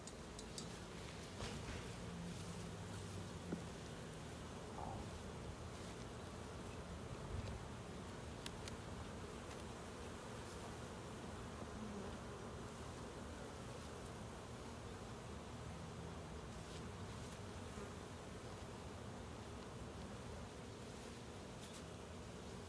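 A dense, steady buzzing of many honeybees in an open hive fills the whole stretch, continuous and close, with no voices over it.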